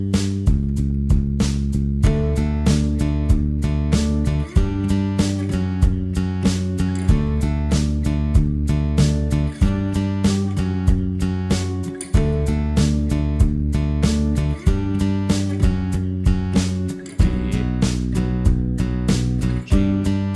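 An electric guitar sits low in a swung-eighths pop mix, doubling the bass line notes in the same rhythm beneath fuller music and a steady beat, with no voices.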